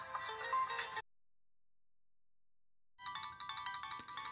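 A Nokia 2630 mobile phone plays its ringtone loudly through the speaker, a bright melodic tune that stops for about two seconds and then resumes.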